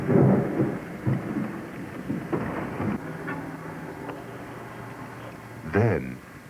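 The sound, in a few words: thunderstorm with lightning strike near a tornado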